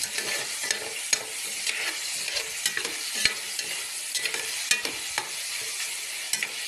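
Pork sautéing in a pan for nilaga, a constant close sizzle and crackle broken by repeated scraping stirs of a utensil against the pan; no talking.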